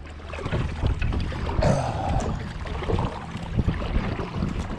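Wind blows over open water during a bass and bluegill fishing trip from a small boat, a steady loud rush buffeting the microphone with occasional louder gusts and water sloshing.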